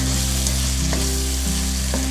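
Chicken sizzling steadily as it is sautéed in a pan with red chilli powder and salt for chicken tinda, a loud, continuous close-up fry with faint stirring scrapes.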